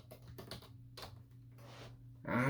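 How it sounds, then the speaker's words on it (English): Fingers tap quickly on a computer keyboard in short, uneven bursts of close, crisp clicks, with a brief louder noise at the very end. "I'm so fucking tired of typing."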